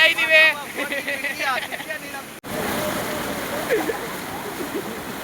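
Plentiful water rushes along a stream in a rainy rural spot, a steady broadband gush heard up close, with people talking over it during the first half.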